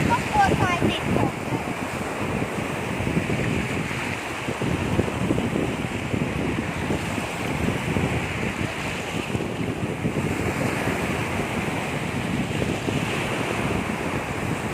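Ocean waves roll onto a sandy beach in a steady, loud wash of surf, mixed with gusty wind buffeting the microphone, while voices are faintly heard under the roar.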